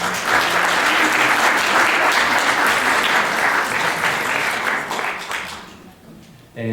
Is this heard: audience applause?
yes